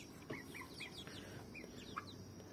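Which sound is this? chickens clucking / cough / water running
chickens clucking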